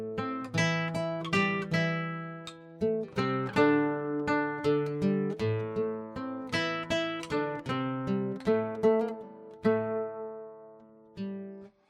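Close, solo acoustic guitar playing a Malian octave melody, a variant of the refrain with the open A dropped at the start of the second bar, picked notes falling in a steady repeating groove that ends with one final note.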